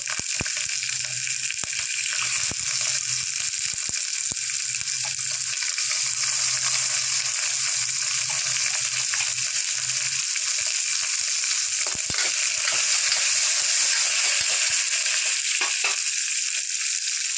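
Onion and green chillies fry in a pan with oil for a tomato and brinjal dish, giving a loud, continuous hiss and crackle that lasts throughout, broken now and then by the scrape of stirring.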